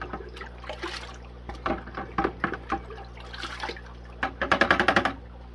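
A suction hose is swirled around in the water of a small backyard guppy breeding pond, giving soft sloshing and gurgling splashes that build into a quick run of rhythmic swishes near the end.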